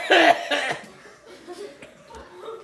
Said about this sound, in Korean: 이쯤 기침을 해서 잠을 깨운다.